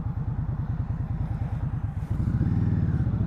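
A 2020 Indian Scout ABS motorcycle engine runs steadily while riding, a close, loud, rhythmic low-pitched rumble that thickens and grows louder near the end, with no voices.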